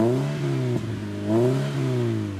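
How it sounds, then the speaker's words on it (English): Car engine fitted with a new custom exhaust revs up and settles in two throaty swells, loud and close, with no talk over it. "Give it a rev."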